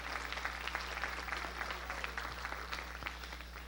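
A church congregation at a Sunday evening service in 1985 gives a sustained round of clapping, quiet and somewhat distant, over a steady low electrical hum.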